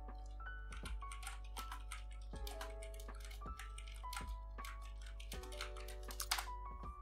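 Someone types a chatbot prompt on a computer keyboard, tapping rapid, uneven strings of keys at close range. The clicks sit over a low, steady background hum.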